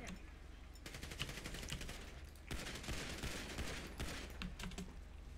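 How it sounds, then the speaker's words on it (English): Gunfire in a police roleplay video game: rapid bursts of shots crackle in two long volleys separated by brief pauses, with scattered single pops at the end and faint voices underneath. "Shots fired."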